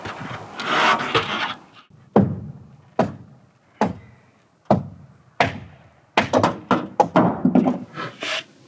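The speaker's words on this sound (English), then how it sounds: "I'm trimming one of the tongues off of the top Lincoln block" Tongue being trimmed off the top of a wooden Lincoln log-style wall block during house framing, heard as a long rasping rub followed by a series of sharp, close strikes and rapid chopping thunks.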